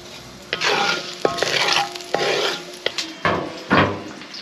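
Ham frying slowly over low heat in a pan, a steady soft sizzle broken by several sharp scrapes and clinks of a utensil stirring against the pan.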